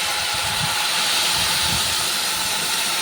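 Cold water poured into a hot pan of spiced food after turmeric and salt have been fried in, giving a loud, steady steaming hiss that holds evenly for a few seconds, close by and without talk.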